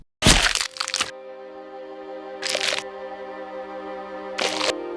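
A sharp crack from an eye socket, followed by two more brief cracks spaced apart, each leaving a sustained ringing tone, close and fairly loud with no talk.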